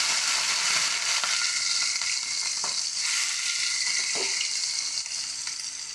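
Prawns frying in hot oil in a pan, a loud, continuous sizzle with occasional scrapes and small pops, fading slightly at the end.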